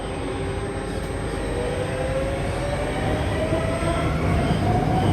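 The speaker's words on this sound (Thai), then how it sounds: "รถไฟใต้ดินของเบนเยียม" A subway train in Belgium rumbles steadily along the tracks, a loud continuous roar with a rising electric motor whine, no voices.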